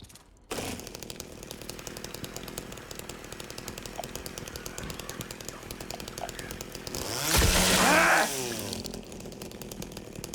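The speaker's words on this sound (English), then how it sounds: "I like how James is just like, I hear a bug. Bust out the chainsaw" A chainsaw from the video game Silent Hill 2 Remake buzzes steadily and loudly throughout, then revs into a louder rising whine near the end before settling back.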